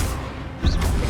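An Accio summoning spell is cast in the PS5 game Hogwarts Legacy, a short whooshing burst with a low thump rising sharply out of a dense, noisy game soundscape.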